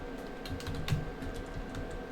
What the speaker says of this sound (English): if I go here and I type in ping